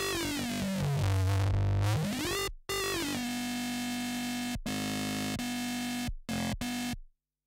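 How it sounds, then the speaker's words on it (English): Distorted Reese bass synth played loud and alone, with a deep growl and swept, phasing harmonics at the start. It moves into sustained notes split by short cuts, then ends with a few brief hits. "That's a Reese."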